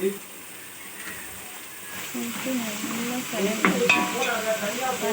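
Sliced onion fries with ginger garlic paste in a pan for prawn biryani, a soft sizzle under a speaking voice, with stirring scrapes and a sharp utensil clink near the end.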